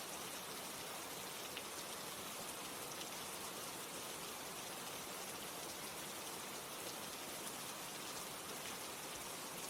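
Steady rain falls without a break, an even, dense hiss of drops on surfaces that stays at one level throughout, close and enveloping, with no voices.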